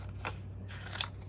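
Scissors snip through craft material at a home crafting table, two or three short crisp cuts close to the mic with a steady low hum underneath.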